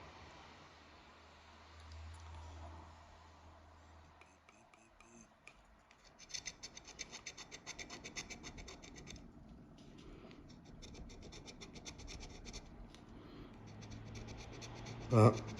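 A crossword scratch-card lottery ticket being scratched, close and fairly quiet: scraping strokes come in busy bursts over several seconds, mixed with occasional speech and small handling noises.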